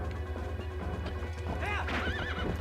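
A horse in Zelda: Twilight Princess whinnies loudly over steady galloping hoofbeats, with low game music underneath.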